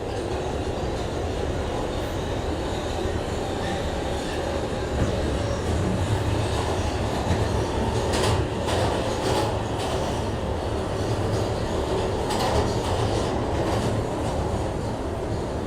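Simulated NYC Subway R142A train running in the OpenBVE game, a dense continuous roar of motor whine and track rumble with occasional clicks, steady and loud throughout.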